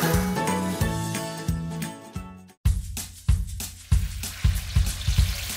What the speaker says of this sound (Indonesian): Aku goreng dulu ya, Bu, sempolnya